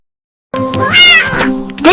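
Barn cat gives a single drawn-out meow that starts abruptly after a moment of silence, loud and close, rising at the end.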